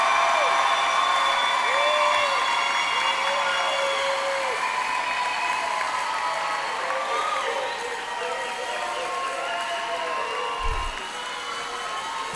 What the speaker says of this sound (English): Let's give them one more round of applause to the class of 2023.